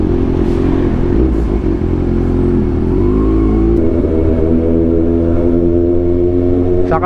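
A motorcycle's exhaust drones in a loud, steady, buzzing hum while riding along a highway, with the engine note shifting slightly in pitch as the bike holds speed.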